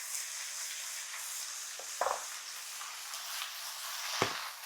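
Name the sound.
beef and its juice sizzling in a stir-fry pan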